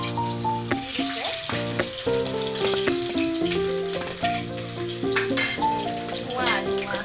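Onions frying with sugar in a pan for pulao give a steady, crackling sizzle with occasional stirring, heard beneath prominent background music throughout.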